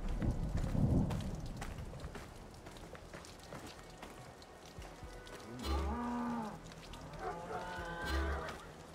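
Cow mooing in the Western stealth game Desperados 3, two drawn-out low moos rising out of a rain-and-thunder ambience, the second a few seconds after the first, with no talking over them.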